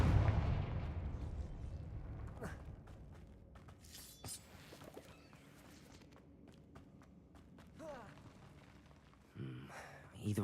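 A Confringo blasting spell going off in Hogwarts Legacy: a heavy, booming blast that rolls and fades, followed by scattered footsteps, sharp impacts and rumbling game effects.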